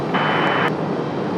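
An Embraer E175 jet airliner departs for Toronto with a steady loud jet engine roar, plus a short, brighter burst of whine and a couple of faint clicks.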